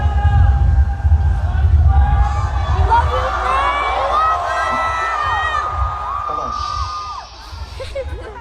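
A large festival crowd at Coachella cheers and shouts, a dense roar of voices and whoops with a speaker talking over it, fading somewhat toward the end.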